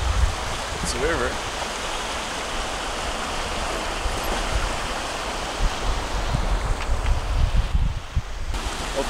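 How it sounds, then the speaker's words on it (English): A river flowing beside a highway in Serbia, a steady broadband rush of water with wind noise, heard continuously and fairly loud with some brief bumps and a faint tonal chirp. "It's a river."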